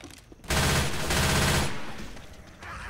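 Rapid automatic gunfire from Left 4 Dead 2 bursts in suddenly and rattles loudly for about a second and a half, then fades into quieter game noise.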